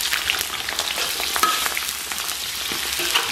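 Scallion and garlic go into hot oil in a wok, frying with a continuous crackling sizzle and occasional stirring scrapes, close and loud with no voices.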